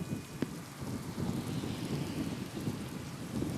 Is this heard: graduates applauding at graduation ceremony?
no